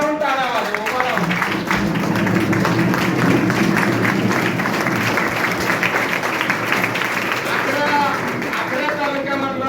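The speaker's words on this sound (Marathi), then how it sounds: "या माणसासाठी जरा सगळ्यांनी उभा राहून टाळ्या वाजवा, उभा राहून." A standing audience at a public event claps for a panchayat samiti officer, sustained loud applause throughout, with a voice speaking over the clapping.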